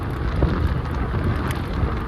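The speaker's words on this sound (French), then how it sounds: "Ah, il y a énormément de vent là." Strong wind buffets the microphone outdoors during a ride on a powerful electric scooter, a steady loud rumbling roar with gusty low-frequency bumps throughout.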